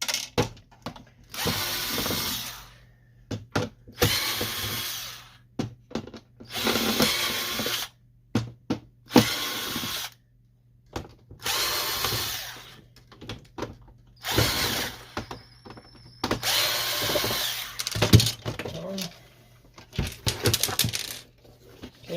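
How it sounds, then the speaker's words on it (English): A power screwdriver removes screws from an HP OfficeJet Pro 8035 printer in repeated short whirring bursts separated by quiet gaps, with small clicks and ratcheting sounds close by. "So removing all the screws."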